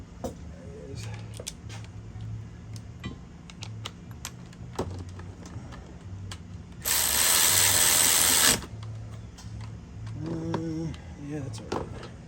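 A socket wrench ratchets on a bolt on a Jeep Wrangler engine during valve rocker replacement, with repeated clicking passes and a louder burst of mechanical noise midway, under faint low hum.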